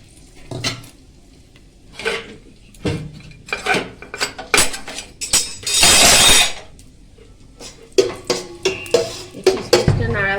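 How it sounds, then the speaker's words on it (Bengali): Cashews and raisins stirred in a metal pan give repeated loud, close scrapes and clanks of a spoon, with a longer hissing sizzle midway. "কিশমিশটা নাড়াবো, কিশমিশটা খুব ফুলে যাবে"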